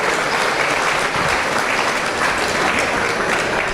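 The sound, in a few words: audience applause for young showmen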